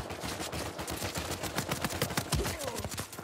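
Rapid gunfire from a Type 95 rifle in an Uncharted 4 multiplayer team deathmatch crackles in a dense run of quick repeated shots, moderately loud and close throughout.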